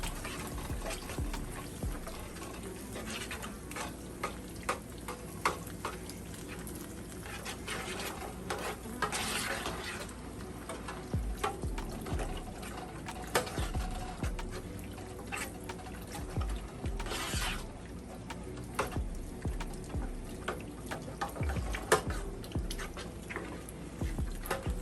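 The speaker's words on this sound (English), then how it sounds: "what we're going to do to loosen that up and finish our gravy off is add some chicken stock" Chicken stock poured into pork chop gravy in a pan, a steady trickling, splashing pour that runs on and on without a break.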